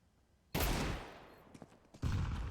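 Counter-Strike 2 gunfire cracks out in two bursts, a loud rapid volley followed by a few scattered shots and then another heavy burst, close and punchy with a decaying tail.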